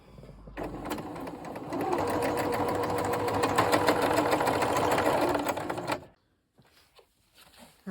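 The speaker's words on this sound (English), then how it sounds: "And then you feed it in and stitch it together." A sewing machine stitches quilt pieces together in a fast, even mechanical whir. It starts after a brief pause, runs steadily for about five seconds, then stops abruptly, leaving near silence.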